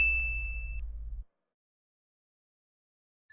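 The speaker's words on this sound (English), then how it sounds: "hit the notification bell" A single bright notification bell ding, a clear sustained tone that rings for under a second over a low music bed before the sound cuts to silence, with a faint tick at the very end.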